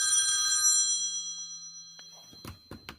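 A telephone at a business rings with a bright, shimmering bell tone that fades out, followed by a few close clattering knocks and clangs.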